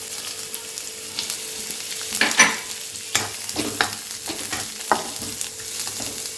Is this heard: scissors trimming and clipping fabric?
no